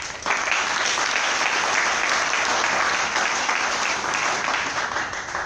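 An audience at a political campaign launch event in Côte d'Ivoire applauds, a dense, sustained clapping that fills the room evenly for several seconds before tapering slightly.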